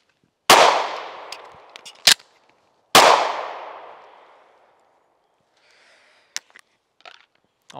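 A Springfield Echelon pistol fires two sharp, loud shots about two seconds apart outdoors, each with a long fading echo, followed by a few faint metallic clicks and handling sounds.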